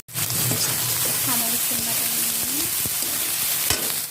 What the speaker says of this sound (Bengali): কড়াই তেল দিয়ে দিলাম চিলি ভাজা